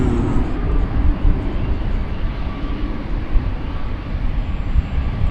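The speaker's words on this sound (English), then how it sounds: "Flight 35, the American Airlines Dreamliner headed to" American Airlines Dreamliner jet on Flight 35 to Auckland, heard at DFW Airport at night as a steady, broad low roar of engines with no voices, holding fairly constant throughout.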